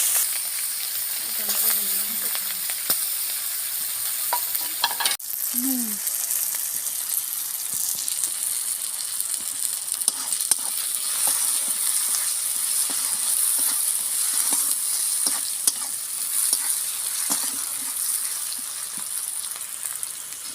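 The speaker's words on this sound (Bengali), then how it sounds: "পেঁয়াজটা ভাজা হচ্ছে" Onion and cumin sizzle steadily in hot oil in a home kitchen, where eggs and pointed gourd are being cooked. The frying hiss is close and continuous, with a brief voice and a small clatter near the start.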